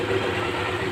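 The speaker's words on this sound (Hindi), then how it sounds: "ये स्लो में खड़ी हुई है बगैर एक्सीलेटर के" A Honda CG 125 motorcycle engine idles with no throttle applied, a steady low chugging hum held close and even throughout.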